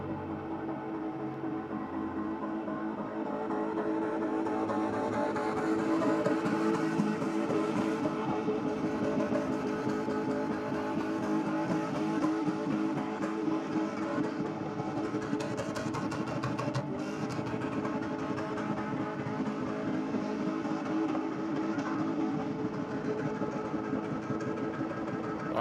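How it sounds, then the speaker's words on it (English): A car skids at a Race 4 Real racing event, its engine roaring loud and sustained for nearly half a minute, with the steady drone of revving and screeching tyres and no voices over it. "we've got some mean skids going on"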